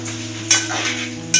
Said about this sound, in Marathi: आई आता मिक्स करून घेते सर्व